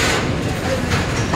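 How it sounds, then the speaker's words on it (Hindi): A Coalfield Superfast train pulls out of Asansol railway station, its loud, steady low rumble and rolling clatter close by, with someone talking over the noise. "फाइनली 7:03 में हमारी ट्रेन निकल चुकी है आसनसोल रेलवे स्टेशन से"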